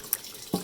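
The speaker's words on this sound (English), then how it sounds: "now we're going to do a rinse under cold water" Cold tap water runs briefly over a vintage dress during a rinse, a quick faint splash of water on fabric lasting well under a second.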